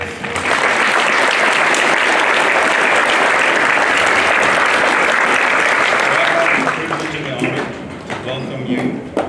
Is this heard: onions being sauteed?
no